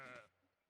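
A single short sheep bleat from the RAID: Shadow Legends game, quiet and brief, fading quickly into near silence.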